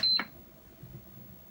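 A GeekChef electric pressure cooker gives a single short high beep as its timer button is pressed, followed by quiet room background.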